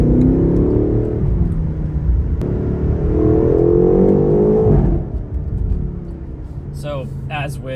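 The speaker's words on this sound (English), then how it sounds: "upshifts give you a really satisfying crackle" A 2024 BMW M8 Competition Convertible accelerates with a deep, rising exhaust drone broken by upshifts, with a sharp crackle at each change, then eases off to a lower rumble while someone talks briefly near the end.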